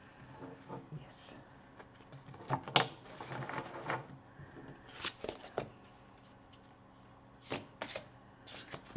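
Tarot cards being shuffled by hand on top of other cards, soft riffling and flicking in short irregular bursts, fairly quiet and close, with a faint voice at times.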